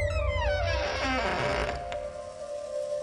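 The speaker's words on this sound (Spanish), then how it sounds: "En eso escuchó que abrieron la puerta." A door creaks open in a slow, drawn-out groan with a sustained squealing tone, loud and close, standing alone for about three seconds without any voices.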